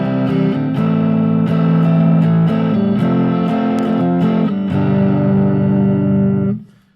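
A Fender Stratocaster electric guitar on its neck pickup, played through a crunchy Deluxe Reverb amp model. Loud, slightly driven chords are strummed in a steady rhythm and then let ring before cutting off abruptly.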